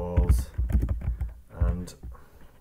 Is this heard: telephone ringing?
no